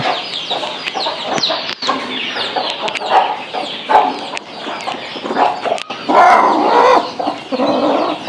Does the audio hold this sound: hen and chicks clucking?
yes